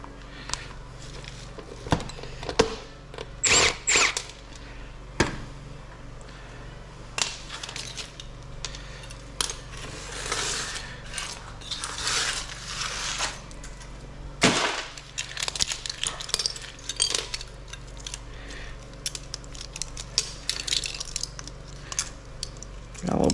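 Scrap metal pieces, including silver-coated parts, aluminum lugs, copper and wire, being handled and tossed into a bin, giving scattered metallic clinks and clatters of irregular rhythm at close range.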